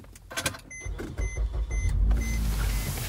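A 2013 Suzuki Kizashi Sport SLS all-wheel-drive with a 2.4L engine starts by push button: a few dashboard chimes and a brief cranking whir, then the engine catches and settles into a steady low idle, close and alone.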